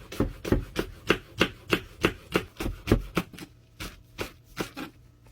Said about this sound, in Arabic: طبعا كل حاجة في الفتوش تفرم فرم خشن